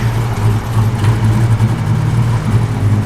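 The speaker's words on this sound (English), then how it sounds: "The car's got great sound." A 1965 Ford Mustang engine idles steadily with a deep, even rumble, loud and close, no voices.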